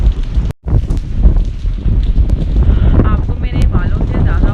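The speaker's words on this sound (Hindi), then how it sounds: "कितनी ठंडी और तेज़ हवा चल रही है।" Cold, strong wind buffets the microphone in Murree in late July, a loud continuous roar and rumble with gusty swells, briefly cut by a gap near the start.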